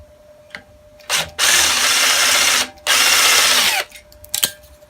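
Power drill boring out rivets from metal plates during an XT600 motorcycle rebuild, with two long loud whining bursts between brief starts and stops, close up and with no talking.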